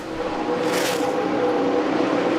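NASCAR race cars on track at Michigan, a dense steady engine roar with one car surging past, loud and continuous throughout.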